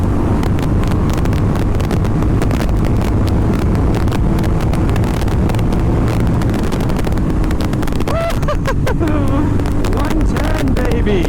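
A Honda Rebel 1100 motorcycle on a top-speed run roars steadily under heavy wind buffeting, engine droning loud and close throughout, with a voice coming through near the end.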